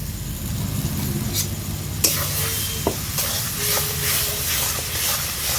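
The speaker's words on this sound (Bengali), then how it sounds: "সব কিছু ভালোভাবে মেরে চেড়ে নিচ্ছি" Raw mango chutney with turmeric, salt and sugar is stirred in a hot pan, a steady close sizzle and hiss with a few sharp utensil clinks and scrapes against the pan throughout.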